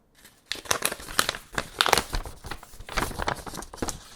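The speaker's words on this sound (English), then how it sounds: "Make it feel like you're opening something good, but it's not." A paper bill, a payment notice from Taiwan, is unfolded and crinkled close by, with a brief rustle followed by several seconds of busy, uneven crackling and crumpling bursts and no talk.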